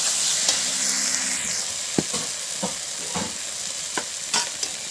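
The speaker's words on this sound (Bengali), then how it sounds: "হলুদ গুঁড়ো দিয়ে আবারও নেড়ে নিচ্ছি ভালো করে।" Spices with turmeric powder fry in a pan for a fish curry with pointed gourd and potato, stirred by hand. A loud hiss is cut by several distinct scraping strokes at an irregular pace.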